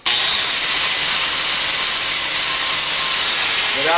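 A Norton Rapid Strip abrasive, a black pad like a giant Scotch-Brite, spins against a metal part with a loud, continuous, rough whirring grind that begins abruptly and stays steady for four seconds.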